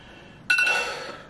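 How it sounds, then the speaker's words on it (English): A phone alarm goes off as a sudden bright, ringing chime after a quiet moment, heard alone and close. "That's my alarm telling me it's time to start heading to the gym."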